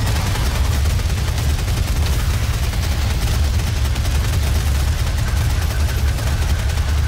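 A DOOM chaingun fires continuously, a loud, steady rattling barrage with a heavy low rumble, holding at the same intensity throughout with no pauses.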